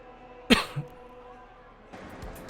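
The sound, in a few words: coughing fit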